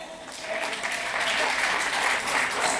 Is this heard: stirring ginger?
no